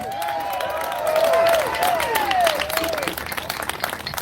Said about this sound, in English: Big cheer for David Graham.